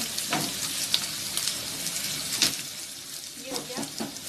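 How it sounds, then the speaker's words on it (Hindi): Onions fry in a pan with a loud, steady sizzle, punctuated by occasional clinks and scrapes of stirring, and a voice is faintly present underneath. "ये हो गया मेरा ऑनियन भी ब्राउन ब्राउन फ्राई भी हो गया है"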